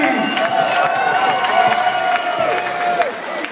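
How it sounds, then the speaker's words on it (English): Spectators at a boxing match cheer and shout for the two fighters, a loud dense crowd roar with whoops and whistles carrying over clapping for a few seconds. "let's have a big round of applause for both of our matching fighters"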